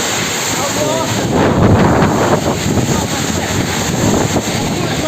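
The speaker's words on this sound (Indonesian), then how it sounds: "Derasnya hujan disertai angin kencang terjadi Minggu sore" Strong wind with heavy rain on a Sunday afternoon in Karangsari, Kulon Progo, Indonesia, loud gusty buffeting and roaring wind noise hitting the microphone with a dense rush of rain throughout.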